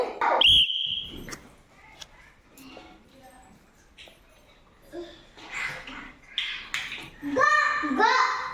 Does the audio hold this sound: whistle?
yes